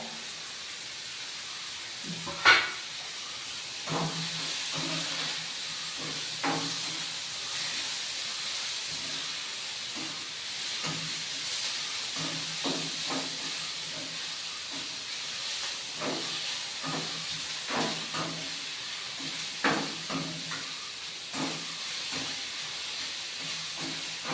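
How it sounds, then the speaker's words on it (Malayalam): Green chillies and ginger sauté in a pan for Kannur-style bonda filling, a steady close sizzling hiss with scattered scraping and clinking from stirring, and no speech. "ഇതെല്ലാം കൂടി ഇത് വഴറ്റട്ടെ."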